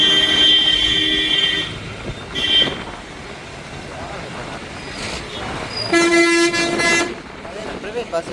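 Private buses in busy Jaffna street traffic blast their horns, with long, loud, sustained honks that come in separate bursts over a constant rumble of engines and road noise.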